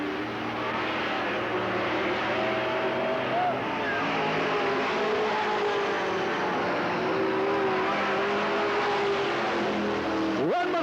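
Race cars roar around the oval at Riverside Speedway (Cottage Grove) in 1991, a continuous loud engine drone with rising and falling pitch as cars pass, under steady commentary.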